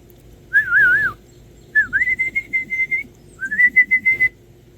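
A person whistles in imitation of bird song, first a warbling trilled phrase, then two runs of short repeated whistled notes, loud and close with no talking.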